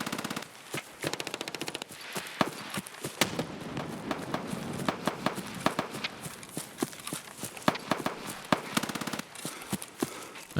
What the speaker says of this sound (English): Yeah, that's a lot of shooting.